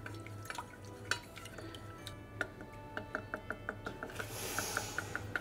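Sticky Christmas cake glaze melting and coming to the boil in a pan, with soft irregular drips and ticks of bubbling over a low steady hum, building to a faint hiss near the end.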